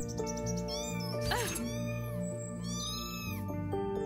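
A cat meows several times in drawn-out, wavering calls over a sustained musical backdrop, fairly close and clear.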